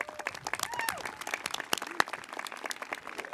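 A graduation audience at a North Hunterdon High School ceremony claps for the school's concert band, the applause fairly light and uneven with scattered sharp individual claps and a few voices or cheers mixed in.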